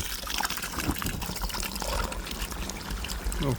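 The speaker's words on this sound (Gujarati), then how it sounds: "હવે પાણી ચાલુ કરી નાખ્યું ફૂલ ટાંકી ભરાઈ જાય જલ્દી" Water pours from a pipe into a tank, a steady broadband rushing and splashing that runs continuously and fairly loud, with no talk over it.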